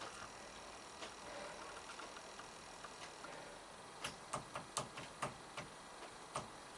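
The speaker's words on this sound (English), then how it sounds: "Now if I put 12 volts to this solenoid" A propane vaporizer solenoid on a Vialle system, with 12 volts applied, gives a run of sharp, close clicks near the end, rising over a faint steady hum.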